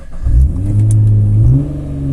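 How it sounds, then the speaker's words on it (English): A Nissan GT-R engine starts with a sharp crank and rises into a loud, close rev that holds, dips and then settles back toward idle, with no talking. "Foot on the brake. Start the vehicle."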